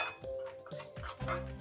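A spoon stirs baby corn batter with a squeeze of lemon juice in a bowl, scraping and clinking against the sides in a few irregular strokes, quiet and close with no talk.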